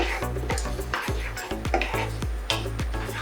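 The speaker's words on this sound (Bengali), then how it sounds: "ডালটাকে আমরা হালকা করে ভেজে নেব" Lentils for khichuri fry lightly in a pan, with a spoon repeatedly scraping and knocking against the metal in a steady stirring rhythm and a faint sizzle underneath.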